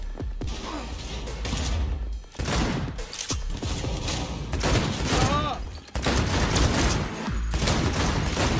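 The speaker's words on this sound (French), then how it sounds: "c'était une grenade ça?" Bursts of gunfire and heavy explosive booms from Cyberpunk 2077 combat, including a grenade blast, arriving in several loud, dense volleys with short lulls between them, close and intense.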